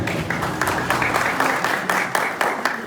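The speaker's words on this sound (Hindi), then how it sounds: "तालियां दी।" An audience at a pigeon fanciers' tournament event claps, with uneven, fairly close rhythmic claps and scattered individual strikes standing out over a modest crowd.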